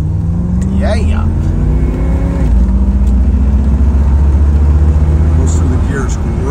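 A 1977 Chevrolet Corvette engine runs loud and close, its pitch rising and falling as it revs through gears, with a voice speaking briefly over it.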